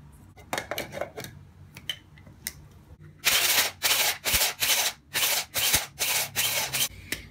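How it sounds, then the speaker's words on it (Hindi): Homemade face cream ingredients, including leaves, being ground in a small grinder: a quiet start of scattered clicks and scrapes, then repeated loud whirring bursts of roughly half a second each, close by and with no voices. "ये हमने पीस लिया है"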